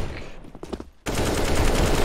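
M249 machine gun firing in a competitive first-person shooter match: after a brief quiet stretch, a sudden, loud sustained burst of rapid automatic fire erupts and continues without break.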